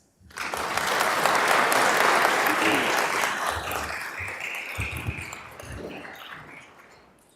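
Graduation audience applauding to welcome a speaker, dense clapping that rises quickly, holds strong for several seconds, then gradually thins out and fades, with a few voices underneath.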